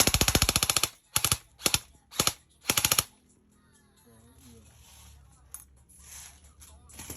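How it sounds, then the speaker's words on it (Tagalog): An SRC Sportline AEG airsoft rifle fires four short full-auto bursts, each a rapid loud clatter of shots, followed by quieter handling noise with faint talk and ambient sound. "Firing full auto."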